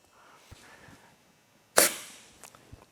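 Compressed air forces the piston out of a Honda CBR 600 RR rear brake caliper in one loud, sharp burst with a brief hiss trailing off, preceded by faint handling noises.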